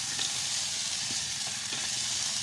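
Crab (alimango) cooking in a pan with mixed vegetables makes a dense, continuous sizzle and hiss, loud and unbroken throughout.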